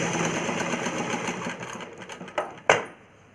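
A sewing machine runs steadily while stitching an umbrella frock for a young child, then slows and stops with a couple of sharp mechanical clicks. The sound is close and moderately loud, with no voices.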